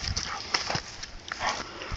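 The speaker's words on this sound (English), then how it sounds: "Watch the dog eat stuff." A dog tears into and chews roots outdoors, with scattered crunching, snuffling and a few short dog noises close by at moderate volume.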